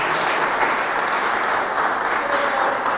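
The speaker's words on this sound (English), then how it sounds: "Please give him a round of applause." An audience gives a round of applause at a presentation event, steady, dense clapping at an even level throughout, close and full with no one talking over it.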